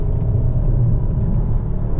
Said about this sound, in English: awesome mid-range punch from this engine